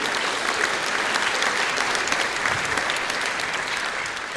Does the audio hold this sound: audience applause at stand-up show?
yes